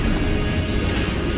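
A Confringo explosive spell goes off in Hogwarts Legacy, a dense, loud crashing burst that fills the whole moment, steady and close with a rough, smashing texture.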